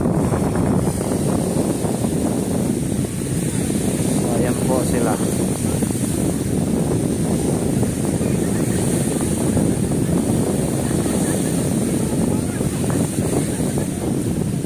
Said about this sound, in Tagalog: napakalakas ng hangin dito